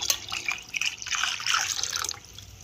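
Water is poured into thick pappu charu cooking over high heat, a short splashing trickle with some dripping, close and moderately loud.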